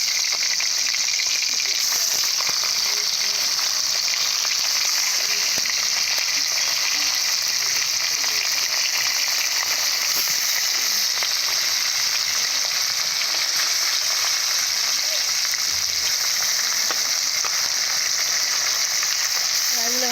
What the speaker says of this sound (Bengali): ধরে একবার মাছগুলো ভেজে নেবো